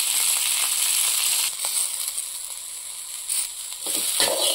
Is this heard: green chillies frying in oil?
yes